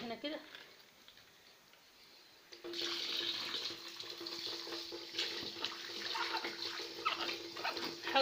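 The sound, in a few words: tap water running inside a slaughtered chicken while cleaning it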